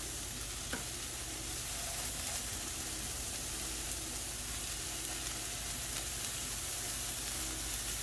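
Meatballs browning in a frying pan give a steady, close sizzle and crackle of frying that carries on evenly throughout, with no talking.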